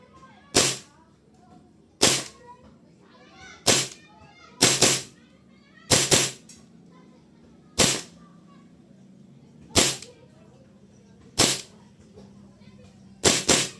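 A custom Nighthawk airsoft pistol fires BBs in about nine sharp, separate cracks at irregular intervals, close and loud against a quiet background.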